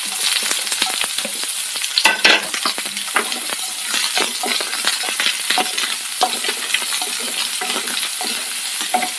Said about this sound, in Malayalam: കടുക് പൊട്ടിയതിലേക്ക് നമുക്ക് ചുവന്ന മുളക് ചേർക്കാം